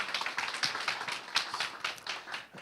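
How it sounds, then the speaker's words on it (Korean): Audience applause at a Korea Startup Forum event, a dense run of many hands clapping for close to three seconds with no voices over it. "우리 5분 다시 한번 큰 박수 부탁드리겠습니다"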